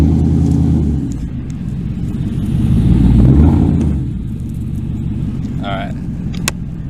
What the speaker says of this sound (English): As you can see the back tire slipping.